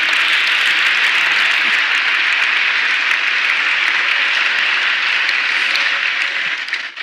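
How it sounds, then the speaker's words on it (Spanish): A church congregation claps together in sustained, dense applause for the Lord, loud and steady for about seven seconds before tapering slightly at the end, with no voices over it. "Yo quiero que le dé un aplauso al Señor en esta hora"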